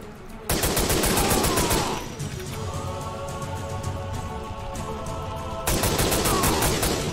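Rapid automatic fire from a Scorpion gun in a video game comes in two loud sustained bursts at the start and end, with a quieter stretch of game sounds between them.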